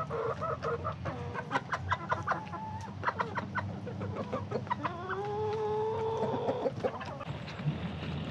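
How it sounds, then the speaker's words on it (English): Several chickens cluck and chatter close by in an irregular rhythm, with one drawn-out squawk partway through, no talking. "the chickens are kind of happy with the flock block"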